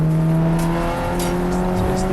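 A TTCR touring car racing at Silverstone International in a BRSCC ClubSport Trophy race, its engine a steady, loud droning roar that holds throughout with slight shifts in pitch.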